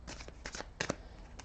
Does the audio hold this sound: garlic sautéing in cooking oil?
no